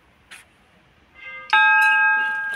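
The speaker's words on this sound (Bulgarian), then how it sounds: "Дошли сме тук, да не дръмнаме камбаните." Large bells at the Bells Monument children's park are struck, a soft early tap followed by a loud clang whose ringing tones sustain and slowly fade.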